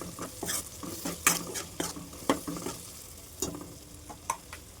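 Chili powder frying in oil while a spoon stirs it in the pan, with repeated quick scraping strokes and clinks over a constant close sizzle.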